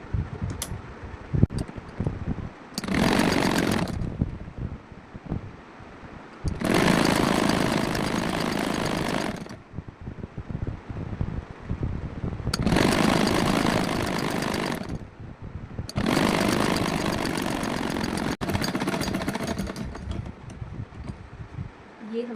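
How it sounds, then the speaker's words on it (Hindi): Sewing machine stitching a simple round-neck blouse, running in long steady whirring bursts of several seconds each, separated by quieter gaps, close and fairly loud. "तो हम अब सिलाई करेंगे।"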